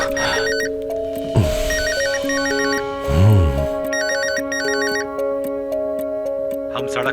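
A mobile phone ringtone rings out in a Turkish drama dubbed into Urdu, a repeating melodic electronic tune that plays steadily throughout at moderate loudness, with brief background thumps.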